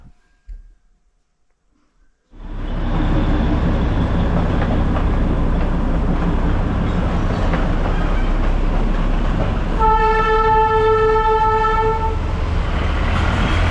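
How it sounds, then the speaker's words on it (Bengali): The Darjeeling toy train, a heritage narrow-gauge railway, passes close by with a loud continuous rumble and rattle of wagons, and a sustained steady horn sounds for a couple of seconds midway, during rainy weather. "দেখুন টয় ট্রেন যাচ্ছে, দারুণ লাগছে।"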